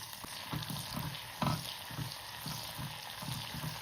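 Onions frying in foaming sesame oil, a steady close sizzle with soft rhythmic stirring scrapes throughout.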